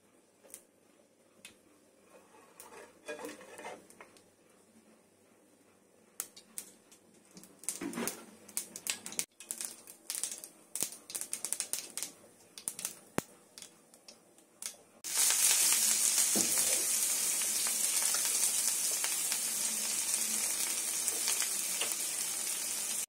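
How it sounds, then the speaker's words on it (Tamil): Mustard seeds hit hot oil in a pan while a Tamil banana flower stir-fry is being made. After about fifteen seconds of sparse light ticks and clicks, a loud, steady hiss of sizzling bursts in close by and keeps going. "இப்போ வந்து கடுகு போட்டுக்கிறோம்."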